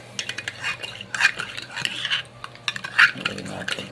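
A spoon stirs black coffee in a cup, making repeated light clinks and scrapes against the ceramic in an uneven rhythm, close and fairly crisp, with no one speaking.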